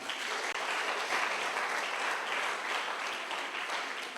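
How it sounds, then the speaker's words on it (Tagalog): Congregation clapping in praise during a church sermon, a dense, sustained round of applause at moderate distance. "Palakpak sa Panginoon."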